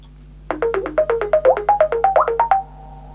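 Microsoft Teams "bubbles" ringtone: a rapid run of about a dozen popping, bubbly electronic notes at an even pace that climb gradually in pitch, then stop with a brief fading tail, clear and close.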